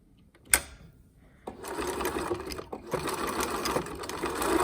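A sewing machine whirs into steady stitching on menstrual underwear fabric after a sharp click and a short pause, running continuously and close by.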